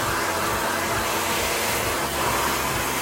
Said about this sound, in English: All we're doing now is just using the dryer as an iron on the brush.